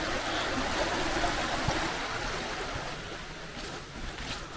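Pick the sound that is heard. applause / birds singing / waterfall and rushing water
waterfall and rushing water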